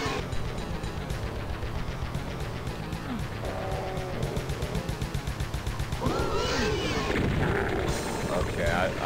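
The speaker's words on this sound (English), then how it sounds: "Unless I could do maybe a rocket jump" Explosions and weapon blasts from Doom 2 on the crushers level boom in a dense, clattering game mix, with a louder burst toward the end and a voice speaking now and then.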